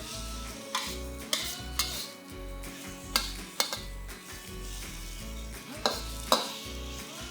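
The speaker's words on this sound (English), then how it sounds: "Give all this a good mix and bring it up to a boil." Broccoli and pork are stirred in sauce in a sizzling pan, the utensil knocking and scraping the pan in irregular sharp clanks over a steady, close bubbling hiss, with no talking.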